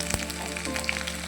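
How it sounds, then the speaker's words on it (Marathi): Garlic frying in a ladleful of hot oil with mustard seeds, cumin and asafoetida for a tempering, a brief, close, steady sizzle with scattered pops and no voices. "लसूण छान परतलेला आहे"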